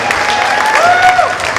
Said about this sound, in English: a round of applause for Senator Espero, Representative Belatti